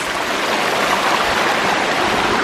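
Steady, loud rush of a jungle waterfall near Chiang Mai, Thailand, with a constant broadband roar and no pauses.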